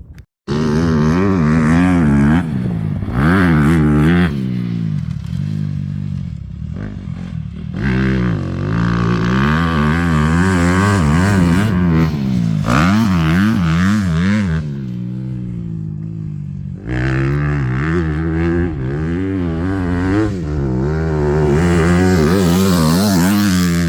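A motocross dirt bike engine on a cross track revs hard and continuously, its pitch rising and falling through repeated throttle bursts, loud and close, with a few brief dips.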